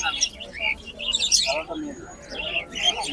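Chirps and tweets from a pair of caged birds, a male and female, at the Meradia bird market in Banasree, Dhaka, scattered in short bursts over crowd murmur and nearby voices.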